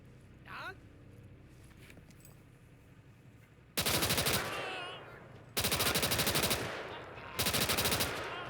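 A PPSh submachine gun rips off three long, loud automatic bursts in a Call to Arms: Gates of Hell battle, each lasting one to two seconds, after a quieter stretch of game ambience.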